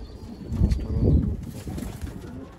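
Pigeons cooing softly in a low, throaty murmur, with faint wing rustles, close by and continuous.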